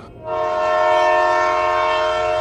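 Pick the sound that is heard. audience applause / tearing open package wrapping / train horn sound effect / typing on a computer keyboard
train horn sound effect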